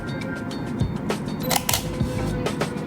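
An Olympus E30 DSLR autofocuses in Live View, making a few close, quick mechanical whirs and clicks, with faint handling noise between them.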